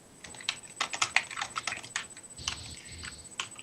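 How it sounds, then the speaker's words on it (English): Rapid clattering keystrokes on a computer keyboard during an online conference call, fairly close and loud, in uneven bursts with no talk. "And Lawrence, we're getting a lot of typing from you"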